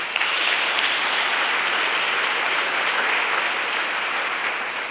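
A room full of people clapping at a European youth prize ceremony in Aachen, a broad, continuous wash of applause holding at an even level for the whole stretch, with no speech over it.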